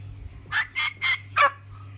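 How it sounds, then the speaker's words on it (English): Young turkey poults in boxes at a turkey farm give four quick, close, high-pitched calls in a rapid run, with a low steady hum underneath. "he's bringing out some boxes with poults, trying to get 15 in a crate"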